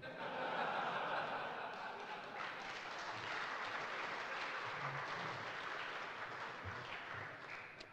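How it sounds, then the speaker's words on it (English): A conference keynote audience of programmers claps steadily and laughs, a broad wash of applause with scattered chuckles throughout, fairly distant and soft. "That's what I like, geeks clapping for geeks"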